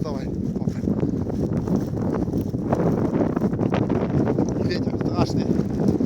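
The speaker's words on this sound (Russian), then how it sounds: "Ветер страшный." Strong winter wind in the chalk hills of Belgorod buffets the microphone with constant low rumbling gusts, continuous and close throughout.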